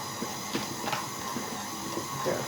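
A stand mixer works pastry dough bound with egg, giving a steady low whirring hum with faint soft slapping and thumping as the dough pulls away from the bowl sides; no one talks.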